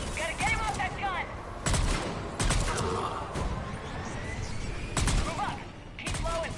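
A mounted gun in a Mass Effect 3 battle fires in short, sharp bursts of heavy shots, mixed with other combat noise and loud, close impacts, while voices shout over the fight.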